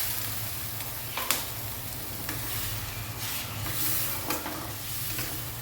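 Aar fish curry (aar macher jhal) stirred slowly in a pan, a steady soft sizzle with a few light scraping clicks from the spoon, close and continuous.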